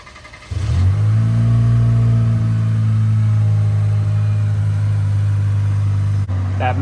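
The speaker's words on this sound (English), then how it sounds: "that MagnaFlow Overland Series exhaust, baby." A 2023 Chevy Colorado truck engine starts up and settles into a loud, deep, rumbling idle through a MagnaFlow Overland Series exhaust, steady and close for several seconds.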